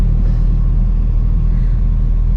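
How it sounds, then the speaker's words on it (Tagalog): Steady low rumble of road traffic during the Christmas rush, a dense mix of car and bus engines idling and creeping along, continuous and fairly loud with no distinct passes standing out. "Ang traffic! Tingnan niyo."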